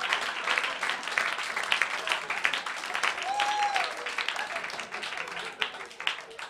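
Sustained audience applause at a live stand-up comedy show, dense steady clapping from a full room lasting throughout, with crowd murmur and a faint voice mixed in.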